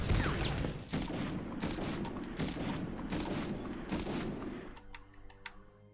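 Rapid enemy gunfire in the PS1 game Medal of Honor, a dense burst of repeated shots for most of the stretch, then giving way to ticking mechanical game sounds near the end, with no talk.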